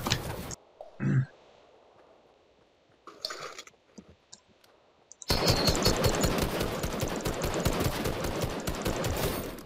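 Fortnite gunfire: a few scattered in-game shots and clatters, then a sustained rapid burst of automatic fire, loud and close, running to the end.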